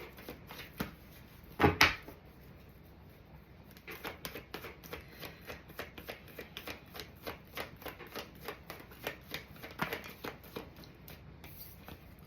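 Tarot cards shuffled and drawn by hand, soft repeated riffling and flicking close up, with a sharper snap of a card near the start and quiet pauses between bursts.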